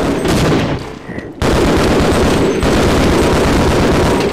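A gunfight in the Half-Life video game where snipers fire from a hill: a loud, continuous barrage of shots and impacts, dense and close, with only a brief dip before it resumes at full force.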